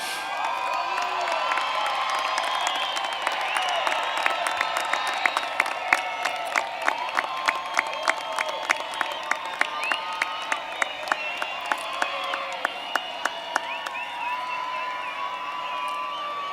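Graduates at the 2021 Ysleta High School graduation clap and cheer for their families. A large crowd keeps up steady applause with sharp individual claps, shouts and whoops over sustained cheering.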